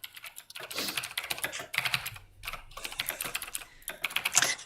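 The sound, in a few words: typing on a Razer BlackWidow computer keyboard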